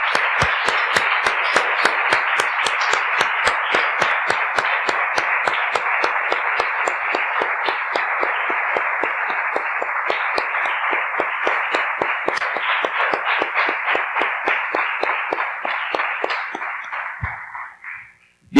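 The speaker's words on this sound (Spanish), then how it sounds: "Damos un aplauso" Church congregation claps in unison, a long even run of sharp, regular beats at a quick steady tempo that carries on for well over a dozen seconds before stopping abruptly.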